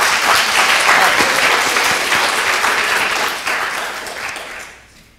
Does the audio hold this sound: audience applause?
yes